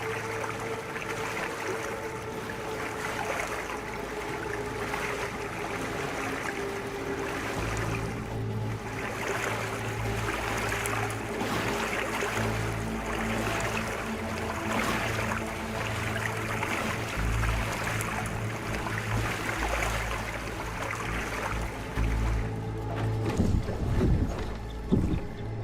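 Boat paddling on water in the video game Crimson Desert, a steady wash of water and splashing under a low droning hum and faint wind, continuous and moderately loud with no voices.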